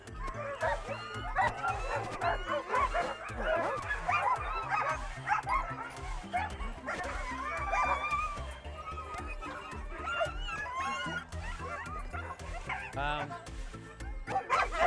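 A team of sled dogs waiting to run on a dogsledding outing barks, yips and whimpers excitedly in a constant, overlapping chorus, some close and some farther off, with occasional human voices mixed in.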